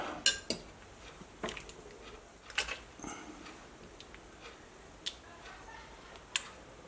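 Sparse clinking of a utensil against a slow cooker as chicken thighs in marinade are flipped, several sharp light clicks and taps spaced irregularly, close and fairly quiet.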